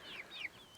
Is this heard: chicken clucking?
yes